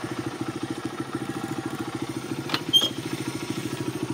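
A Honda XR pit bike idles with a steady, even chugging pulse throughout, close by, with a couple of brief sharp clicks partway through.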